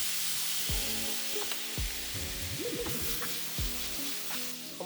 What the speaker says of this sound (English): Now I'm just gonna add a tiny bit of teriyaki sauce to the tofu just to glaze it.